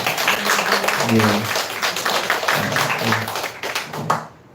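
A church congregation at Sunday worship claps in encouragement, a steady round of applause lasting about four seconds with a voice speaking over it.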